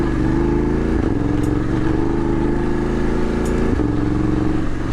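A BMW F750 GS adventure motorcycle's engine hums steadily in first gear on rocky ground, the revs held up with two brief dips and recoveries, loud and close with no talk.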